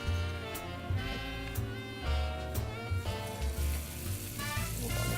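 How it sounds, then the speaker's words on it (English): Steak Diane steaks seasoned with salt and black pepper fry in a pan with a loud, steady sizzle, while a tune plays along over it. "You know, that's a good sizzle."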